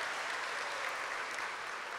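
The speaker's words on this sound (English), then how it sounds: "Give them a round of applause also." A tribal gathering's audience claps for the tribal court at a State of the Tribe address, a steady, even round of applause with no voices over it.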